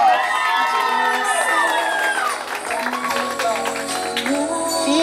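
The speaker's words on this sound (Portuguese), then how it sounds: "Uma salva de palmas!" Guests at a daughter's birthday party clap and cheer together, with children shouting and lively voices over the applause, while a bright sustained tone runs underneath.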